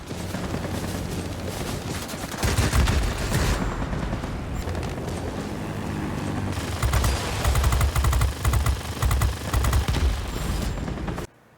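Machine gun fire aimed at a Spitfire in World of Warplanes, rapid continuous bursts over a roaring aircraft engine drone, growing louder and more intense toward the end.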